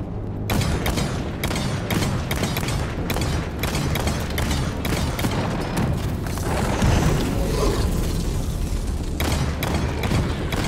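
Rapid gunfire from a Deep Rock Galactic match, with dense bursts of shots and booming impacts running steadily throughout amid loud mechanical clatter and creaks.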